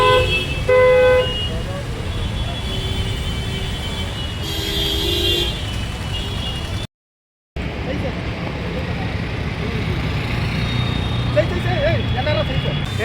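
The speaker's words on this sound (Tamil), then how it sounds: "டிராஃபிக்" Busy Delhi street traffic with repeated car horn toots and honks over a steady engine and road rumble, heard close from the roadside, with people talking nearby and a brief dropout midway.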